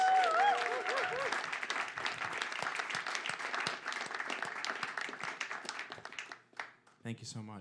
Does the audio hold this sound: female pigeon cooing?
no